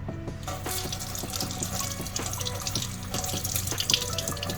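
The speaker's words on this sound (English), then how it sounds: "I'm going to give it a quick rinse." Makeup brushes are rinsed under a running tap, a steady close rush of water with splashing and dripping into a sink.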